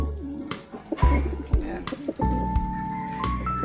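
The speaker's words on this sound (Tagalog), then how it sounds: "Dumako muna tayo sa breeders niya, mga kalapatids." Soft, repeated cooing of pigeons close by, with scattered clicks and rustles and a few brief sharper bird notes.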